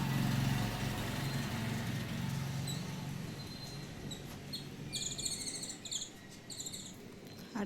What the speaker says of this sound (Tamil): அடுத்து இங்கே பாருங்கள் குருவியை.